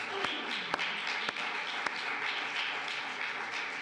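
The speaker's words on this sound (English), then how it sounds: "let's have one more round of applause" Audience applause at a Black History Month event in Brighton, a thin scattering of claps with a few sharp individual slaps standing out, fairly faint and fading rather than a full ovation.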